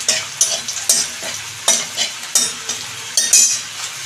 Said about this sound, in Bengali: এই যে লবঙ্গ আর ডালচিনি এলাচ দিচ্ছি।